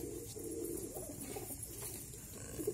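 Pet pigeons, nesting with two newly hatched chicks, coo softly and repeatedly in low murmuring phrases against a quiet background.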